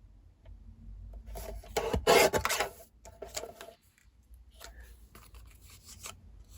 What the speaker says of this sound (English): And then from this, I'm going to cut it to 5 1/4.